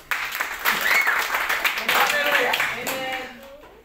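A church congregation claps together, a dense, lively patter lasting throughout and mixed with voices calling out over it, fading slightly toward the end.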